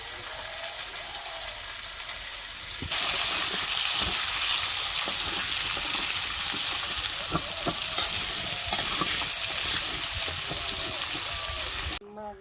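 Potatoes fry in a pan of hot oil as the base for a hilsa fish curry with potatoes and eggplant, a loud, close sizzle that suddenly intensifies partway through, with repeated stirring clatter and no speech heard.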